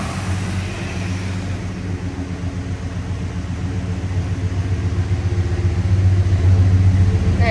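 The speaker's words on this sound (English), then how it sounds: "Nice smooth running V8 up front." Steady low rumble of a 1989 Jeep Grand Wagoneer's V8 engine idling smoothly up close, growing slightly louder near the end, with no talking.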